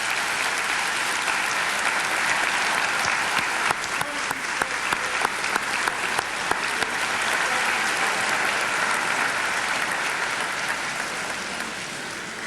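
Warm applause welcoming Lynn and Liz Cheney at a formal public event, a long, dense, steady roar of many hands clapping from a large audience, sustained throughout and tapering slightly at the end.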